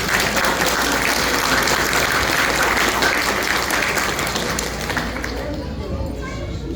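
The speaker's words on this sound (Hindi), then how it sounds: "जोरदार तालियां प्लीज़" Loud, sustained applause from a convention audience fills the hall, steady and dense throughout before easing off slightly toward the end.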